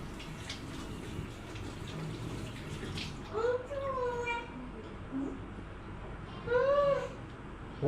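Tomatoes are washed under running tap water, a soft steady splashing stream near the microphone, with brief voices talking over it partway through.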